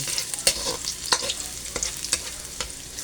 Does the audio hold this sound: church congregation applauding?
no